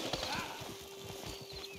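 Horses in a video game whinny and clop their hooves as a runaway wagon tumbles off a cliff, with a brief high neigh early on over steady hoof clatter and rolling noise.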